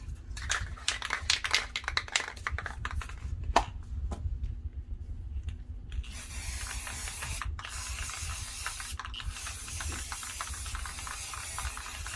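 Steady hissing spray paint on a wooden farmhouse sign, with a few short pauses, follows some clattering handling noises; no one speaks.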